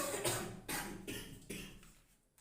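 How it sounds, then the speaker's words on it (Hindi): A person with weakness and illness coughs several times in a row, close and fairly quiet, each burst separated by short gaps and fading toward the end. "खांसी भी आ रही है, आप लोग देख रहे होंगे"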